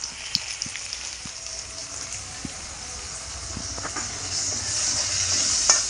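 Potatoes with onion, salt and turmeric are stirred in a hot pan, with a soft frying sizzle and scattered scraping taps of the utensil, the hiss growing a little louder toward the end.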